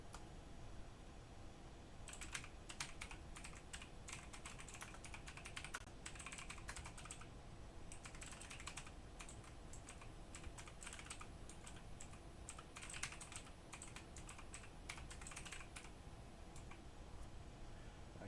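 Fingers tap on a computer keyboard in quiet, irregular bursts of rapid clicks with short pauses between runs, close by and soft, and nobody speaks.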